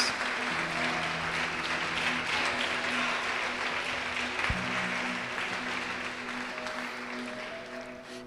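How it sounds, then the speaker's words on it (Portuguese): A church congregation claps together in a steady, sustained round of applause, filling the room evenly with a soft, continuous patter and no talking over it. "Pode aplaudir e glorificar o Senhor Jesus."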